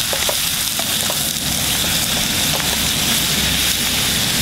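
Bamboo shoots with bean thread noodles fry over high heat for a Hmong-style dish, a loud, dense, unbroken sizzle with a few faint clicks on top, close and continuous.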